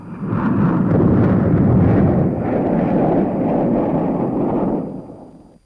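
Airstrike explosions seen from a low-flying aircraft make a heavy, sustained rumbling roar that swells, holds for several seconds, then tapers away, with wind buffeting mixed in.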